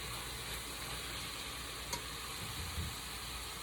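Vegetables sautéing in grapeseed oil for a veggie stir fry, a faint steady sizzle with light stirring clicks, quiet and without talk.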